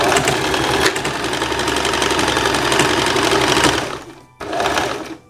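Sewing machine stitching a blouse seam, running in a steady fast rhythmic whir for about four seconds, pausing briefly, then a short final burst, loud and close with no talking.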